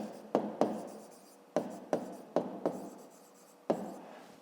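Pen strokes scratch across a school notebook page during a fifth-grade math exercise, coming as about eight short, crisp, close taps and scrapes, each trailing off before the next, in a quiet room.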